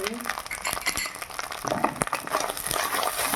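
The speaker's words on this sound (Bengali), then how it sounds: "সেইভাবে ভালো করে কষিয়ে নিতে হবে" Turmeric paste, cumin and coriander being stirred and sautéed in a pan for a green pea curry, with close scraping and clattering stirring strokes over a soft sizzle, fairly loud and irregular.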